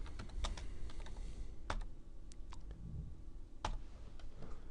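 Typing on a computer keyboard, a quiet, close run of irregular key clicks with brief pauses between bursts.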